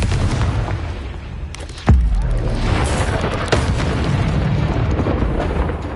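Confringo spell explosion in Hogwarts Legacy, a sudden loud blast with a deep low thump followed by a second sharper burst, over continuous combat noise.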